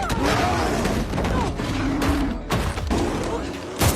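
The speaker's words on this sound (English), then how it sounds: "Kyle reacted instantly and fired 2 shots at the door. The deafening gunshots scared off a black bear inside." Two or three loud, sharp gunshot bangs fired at a cabin door burst out of a dense, busy mix of sound, spaced about a second or more apart.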